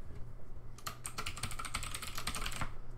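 Rapid clicking on a computer keyboard as text is typed in, a dense run of close, crisp keystrokes over a low background hum, with no talking.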